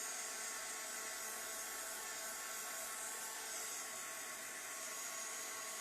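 A hair dryer used as a heat tool on a painting blows steadily and loudly, a continuous close whooshing roar with no talk over it.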